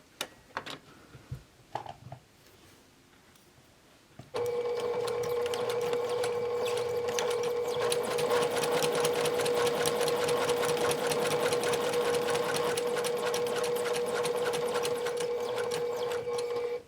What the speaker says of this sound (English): So I'm going to start at this pin, stitch around, and stop at that pin.